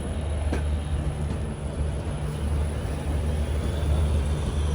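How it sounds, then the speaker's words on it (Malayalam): The Konkan Kanya Express pulls into Madgaon Junction in Goa after a monsoon run from Mumbai, a steady low rumble of wheels and carriages rolling close by without breaks. "ട്രെയിൻ ഇതാ ഗോവയിലെ മഡ്ഗാവ് ജംഗ്ഷനിലേക്ക് എത്തുകയാണ്"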